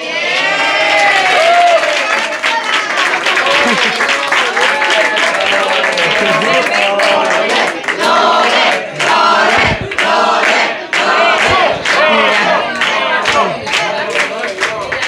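An audience at a tapa contest event in Córdoba claps and cheers loudly and steadily, a dense wash of applause with shouts from the crowd throughout.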